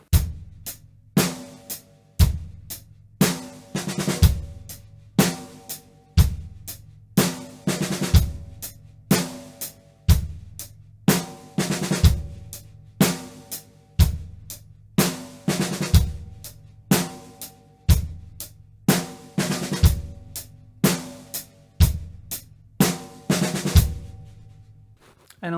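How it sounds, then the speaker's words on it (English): Drumset beat with a 5-stroke roll on the snare, repeating steadily for the whole stretch: sharp cymbal and snare hits over low kick thumps, loud and close, with no talking. "and then the 5-stroke roll on the snare."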